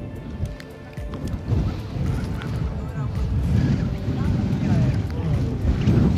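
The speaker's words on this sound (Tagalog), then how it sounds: "At medyo malakas ang hangin." Strong wind gusts buffet the microphone outdoors on a street in Florence, Italy, a steady loud rumble that swells over the seconds, with a person talking underneath.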